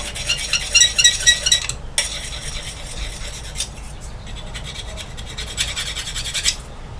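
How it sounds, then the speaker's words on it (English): A handheld diamond stone rubbed by hand against a pottery tool gives repeated close, gritty rasping strokes, busiest at the start and again near the end, with no talking. "these little handheld diamond stones, is you can just come in and rub that by hand"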